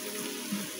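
Potatoes frying in a pan give a steady, close sizzle with faint crackles, continuous and alone for under a second.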